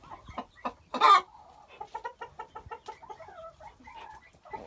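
Barbezieux hens cluck close by in a rhythmic run of short, evenly spaced clucks, with one louder squawk near the start, in a quiet coop.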